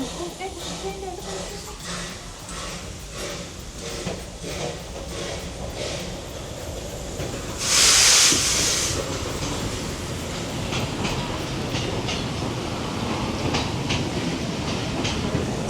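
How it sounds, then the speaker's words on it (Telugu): The Puffing Billy steam train runs through forest in Australia, with a steady loud rumble and clatter of rail cars, a brief sharp hiss of steam midway, and people talking faintly in the background. "ఇంకో ట్రైన్"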